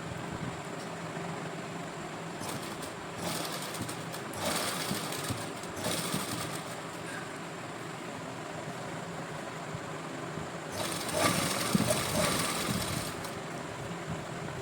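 A sewing machine stitches lace onto a lined shirt, its steady mechanical whirr running continuously with brief faster bursts, close and fairly loud, with no talk.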